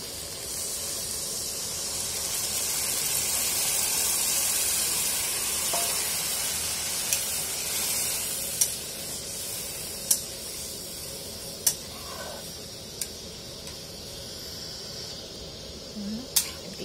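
A steady hiss of water added to a hot pan of cabbage curry sizzling, with a few sharp clinks and taps over the bubbling.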